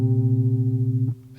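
A two-note chord of the first and second scale degrees rings as one steady, slightly wavering sound, then fades as a new tone begins at the end.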